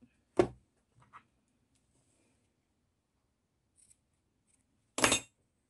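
Scissors snip through sewing thread while finishing a wipe: one sharp, close cut, a couple of faint small clicks, then a second louder snip near the end, with quiet between.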